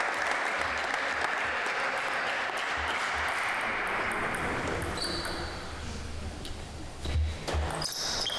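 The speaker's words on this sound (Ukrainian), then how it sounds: "Віктор Єфімов сьогодні запасний, дуже підтримує прищепу, активно аплодує" Steady crowd applause fills a table tennis match hall for several seconds, with sharp pings of the ball bouncing on the table cutting through near the end.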